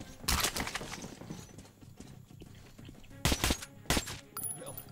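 Gunfire from a weak gun in the video game Metro: Last Light, a few short bursts of loud shots near the start and later, separated by quieter ambient game sound.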